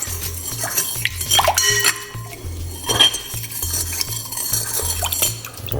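Fruit ingredients, including blackberries, are mixed in a bowl with a utensil, producing close, irregular clinks and scrapes against the dish over a low steady hum.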